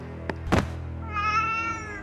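A cat gives a drawn-out meow after a couple of sharp knocks, fairly close and alone with no voices.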